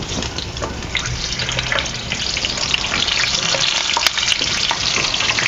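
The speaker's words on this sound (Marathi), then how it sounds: "आपण मिरची सुद्धा आपण तळून घेऊया" Green chillies, slit partway, frying in hot oil for bread pakoda, giving a steady, close, loud sizzle and crackle that holds alone throughout with no talking.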